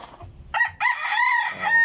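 A white leghorn rooster crows close by in a backyard flock, one drawn-out call rising and holding after a couple of short lead-in notes, loud and clear with no talk over it.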